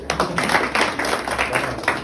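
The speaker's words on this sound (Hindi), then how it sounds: "हाँ जोरदार तालियां बजाओ" Loud audience applause at a live Hindi stand-up comedy show, a dense run of many hands clapping with uneven bursts, steady throughout.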